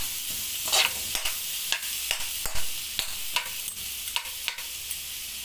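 Onion and garlic sauté in a hot pan for a Filipino mussel soup, a constant bright sizzle punctuated by regular sharp clinks and scrapes of a spatula stirring against the pan.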